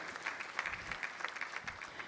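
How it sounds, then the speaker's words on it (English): Audience applause at the inaugural session of an SME manufacturing summit in Mumbai, a steady, moderately faint patter of many hands clapping throughout with no talk. "Let's give them a huge, huge round of applause as pleasantries are being shared"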